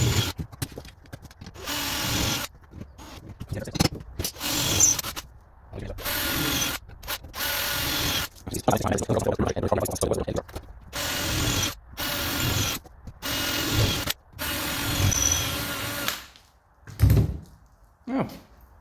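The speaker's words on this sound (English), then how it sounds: "your drill bit will sit in that when you're drilling it." A power drill bores a row of holes in the lip of a Mitsubishi Mini MPI bonnet during a budget repair. Repeated short whining bursts come with pauses between them, mixed with someone talking.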